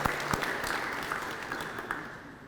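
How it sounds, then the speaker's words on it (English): An audience applauds at a Rotary sports awards banquet, a sustained wash of clapping with a few sharper claps standing out near the start before it gradually thins. "we'll give him a round of applause"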